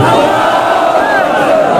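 A crowd at a protest rally against inflation in Mansehra chants a slogan response in unison, loud and sustained throughout, a roaring mass of voices.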